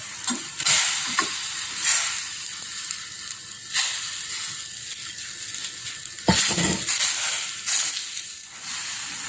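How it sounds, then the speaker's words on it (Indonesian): Shrimp simmering in boiling water in a pot for Johor laksa, a steady close bubbling and sizzling with occasional clinks and stirring knocks throughout, no talk. "Selanjutnya kita rebus udangnya juga."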